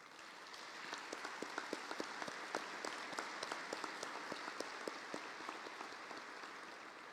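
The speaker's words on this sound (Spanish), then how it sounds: "les pediré un fuerte aplauso para el INEVAP" Faint, scattered applause from an audience at a public-evaluation institute event. The sharp individual claps fall in a loose, uneven rhythm, build slightly, then fade toward the end, heard at a distance in a quiet room.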